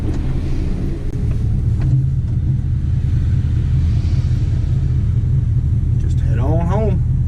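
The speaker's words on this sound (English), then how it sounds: "at least I got a really good road test out of this truck." Inside a 1966 Ford F250 truck on the road, a continuous low rumble of engine and road noise runs throughout, with a brief rising-and-falling tonal sound near the end.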